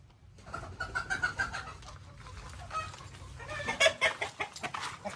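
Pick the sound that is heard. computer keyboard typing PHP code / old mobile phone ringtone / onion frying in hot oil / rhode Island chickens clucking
rhode Island chickens clucking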